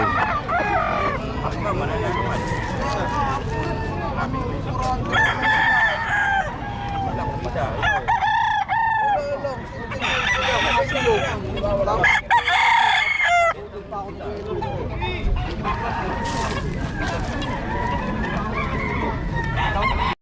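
Pumpkin Sweater gamefowl roosters at a market in Bocaue, several loud close crows and clucks repeating among the chatter of people talking nearby.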